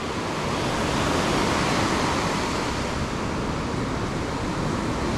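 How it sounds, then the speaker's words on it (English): Small half-metre ocean swell breaking on an overcast beach with no wind; a steady, continuous wash of surf holds an even level throughout, with no voices over it. "it's just a small swell, probably half a metre, but there's no wind, so it's perfect."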